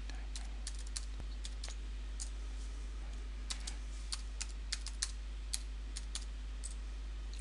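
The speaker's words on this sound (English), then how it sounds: "So I'll type in a new password." Soft, sparse key clicks from typing a new password on a computer keyboard, irregular and faint over a steady low electrical hum, with no talking.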